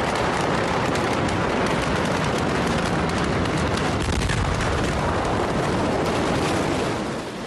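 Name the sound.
second explosion at a port warehouse, filmed nearby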